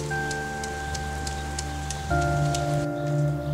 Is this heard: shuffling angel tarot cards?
no